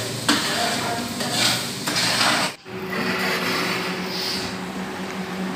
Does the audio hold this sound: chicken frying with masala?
yes